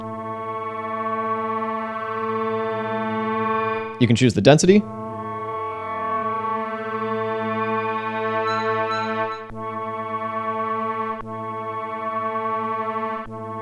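A sustained, buzzy tone from an Arturia MicroFreak synthesizer in granular mode loops a short segment over and over, with a brief burst of grainy noise early on and a voice speaking over it.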